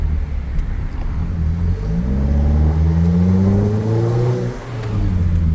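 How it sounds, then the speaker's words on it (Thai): A Mercedes-Benz SLK R172 fitted with a Euro Arts aftermarket exhaust revs hard, its engine note climbing in loud sweeping rises broken by quick gear-shift pops, heard close and alone. "คันนี้เปลี่ยนเกียร์นี้มีเสียงเปลี่ยนเกียร์ดังพรึบๆด้วยนะฮะ"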